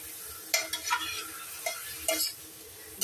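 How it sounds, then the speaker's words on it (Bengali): Mutton frying with yogurt and fat sizzles in a pan while a spatula scrapes and stirs it in several short, close strokes. "ভালো করে কষতে হবে। মাটনটা। এবার এই কষা শুরু হলো মাংস।"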